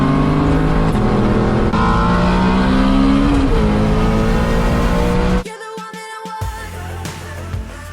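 A Shelby GT350 pulls hard under acceleration, its loud engine note rising steadily in pitch for several seconds before cutting off sharply, leaving quieter mechanical sound.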